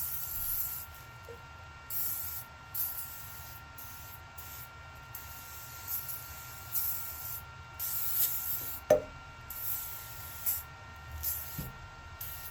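Silicone protective coating sprays from an aerosol can onto a Ryobi tractor in a series of short hissing bursts with pauses between them, set against a low steady hum.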